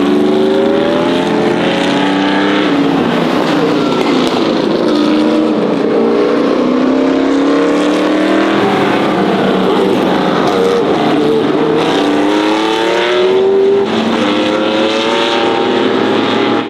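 Classic race cars lap the Espiritu de Montjuic circuit in wet weather, their engines loud and close, pitch sweeping up and down through gear changes over a constant hiss of spray.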